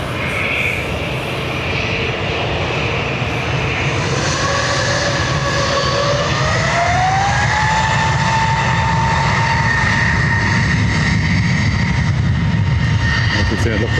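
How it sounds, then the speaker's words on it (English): An Aer Lingus Airbus A320neo departing Dublin for Geneva, its engines roaring steadily while distinct whining tones rise in pitch as thrust builds, loud and close throughout with no speech. "This Aer Lingus is off to Geneva."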